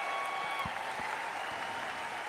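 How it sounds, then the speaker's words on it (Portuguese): A crowd applauds steadily, a dense wash of clapping that holds at an even level throughout, with some cheering mixed in. "Muito aplaudido."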